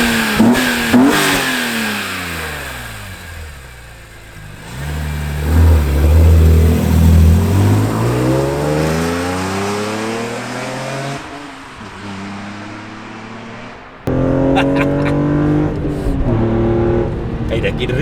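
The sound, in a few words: BMW E46 M3 engine revving with CSL carbon airbox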